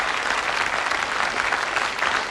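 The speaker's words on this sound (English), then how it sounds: "I think that's worth a round of applause" A television game show studio audience applauds with a steady, even burst of many hands clapping together throughout, moderately loud and free of talk.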